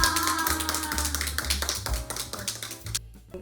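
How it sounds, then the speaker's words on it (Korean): A small studio audience claps to welcome five guest dancers on a Korean dance talk show, a dense, steady patter of hand claps with background music beneath, easing off near the end. "박수 쳐볼까요?"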